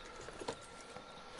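Hooves clip-clop from a horse in Red Dead Redemption 2, a few faint, soft hoof beats in a quiet game scene with no talk.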